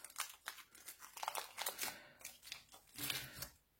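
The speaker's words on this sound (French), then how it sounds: "on découpe" Polymer clay in green, yellow and white being cut into pieces, a series of close, crisp crinkling and snipping sounds in quick irregular bursts with no talking.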